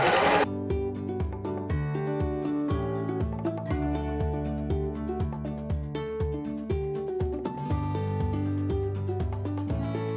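A sewing machine stitches steadily around a fabric bib, its close, rhythmic mechanical whirring and clicking running continuously, with brief pauses and restarts as it back stitches.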